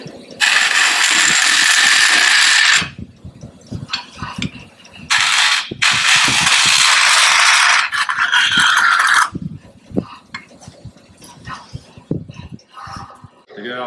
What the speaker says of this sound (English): So I'm going to use this saw just to take off these small bits of material.